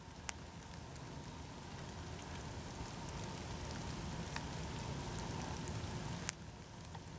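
Light rain falling outdoors during a rainy bugout hike to a creek, a soft steady patter with a few sharp drop ticks and faint clicks, quiet and without talking.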